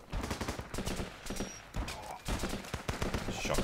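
Shotgun blasts in the video game Running with Rifles, repeated loud booming shots in quick succession mixed with other gunfire across a busy battlefield.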